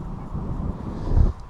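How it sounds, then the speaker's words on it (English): Wind buffets the microphone at an outdoor classic vehicle autojumble in Newark, a low, rumbling roar that swells louder near the end. "Sorry about the wind, it's always windy here."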